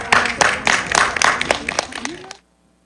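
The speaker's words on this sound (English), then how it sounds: "Give yourselves a very good round of applause." Audience applause at a Disneyland Animation Academy drawing class, a dense burst of clapping that holds steady for about two seconds and then stops abruptly, leaving silence.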